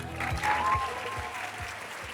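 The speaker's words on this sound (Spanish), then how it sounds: "Ese aplauso bien fuerte para ellos" A church congregation applauds its volunteers, a broad wash of crowd clapping that swells briefly and then settles, with music and a low rhythmic pulse underneath.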